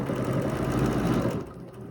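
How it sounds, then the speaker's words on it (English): Stitching along a marked line on a quilt, a sewing machine gives a short, steady whir with a fast needle patter for over a second, then cuts off into quiet. "So now I'm just going to stitch straight up that marked line that I've got on my quilt."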